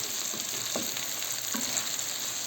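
Steady sizzling of onion and sausage frying in a pan, with a couple of soft stirring scrapes, no voices.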